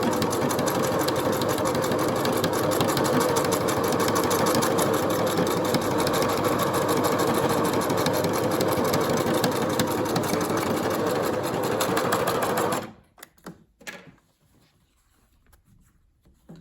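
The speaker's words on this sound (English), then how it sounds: "you would just put that back through the machine. Back tack, and then just run that all the way through." Sewing machine stitching pintucks with a back tack, a fast, steady mechanical whirr running close and loud for about twelve seconds, then stopping abruptly into a few faint handling clicks.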